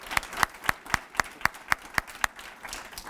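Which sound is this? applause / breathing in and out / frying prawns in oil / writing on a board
applause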